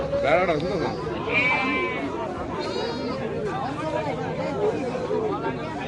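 Goats bleat in short, wavering cries at a busy livestock market in Cumilla during the Eid trade, several calls rising over a background of crowd chatter and nearby voices.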